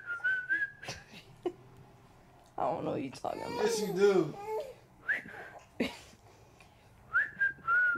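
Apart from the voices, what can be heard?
person whistling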